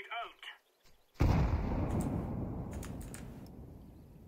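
Grenade blast in Counter-Strike, a loud broadband burst after a second of quiet game sounds, its rumble trailing off over several seconds with faint clicks and distant game noises on top.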